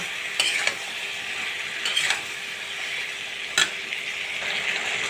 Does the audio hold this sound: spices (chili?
yes